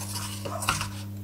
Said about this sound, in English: Hang on to the pan handle and stir in a figure eight